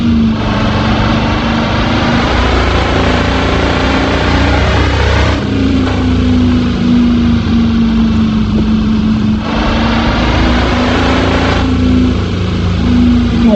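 Truck engine in a car simulator video game, a steady mid-pitched drone that holds a constant pitch with slight shifts, running alone without talk throughout.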